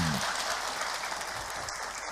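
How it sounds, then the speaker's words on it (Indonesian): An audience at a Ramadan religious talk applauds, a dense, continuous wash of clapping that holds steady throughout. "Tepuk tangan buat Ahilman."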